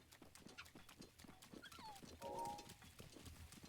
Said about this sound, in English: Oh, hey, there's some horses just chilling.